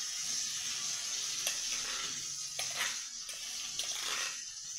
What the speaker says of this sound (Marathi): ती पेस्ट आता मी ही तेलामध्ये भाजून घेते चांगली